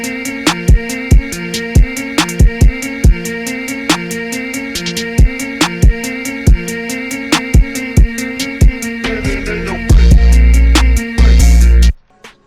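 Gritty Memphis rap beat run through a soft clipper and Fruity Limiter with lows slightly cut and highs rolled off, a steady looping drum pattern with sharp hits, ending in loud sustained booming bass bursts before cutting out.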